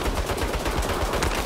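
Rapid automatic turret fire in the video game Saints Row (2022), a dense, steady burst of close gunshots filling the moment without voices.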